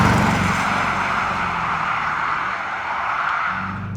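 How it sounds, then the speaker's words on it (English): A BMW E63 650i shooting brake with a V8 engine drives on a UK road, giving a steady, deep, bassy bellow with continuous road and wind roar, close and without speech. "you're listening to that V8 bellow. It's got this gorgeous, deep, bassy woofle to it that sounds so expensive."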